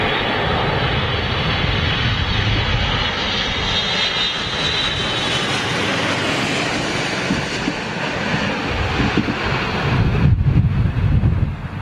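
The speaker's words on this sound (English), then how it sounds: "looks like Air China's Dreamliner right now" An Air China Boeing 787 Dreamliner lands in strong wind, its jet engines a broad steady roar with a faint whine, heard from a distance and continuous throughout before a brief louder rumble near the end.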